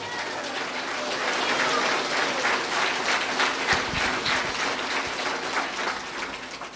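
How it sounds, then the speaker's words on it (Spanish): A church congregation applauds at a sermon, giving sustained, moderately distant clapping that swells and then continues at a steady level throughout. "Fuerte aplausos al bendito Dios"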